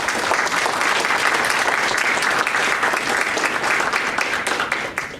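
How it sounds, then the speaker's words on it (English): Sustained audience applause after a book reading on Kentucky history, dense steady clapping from a room full of people, loud and continuous before fading slightly at the end. "Let's give a round of applause."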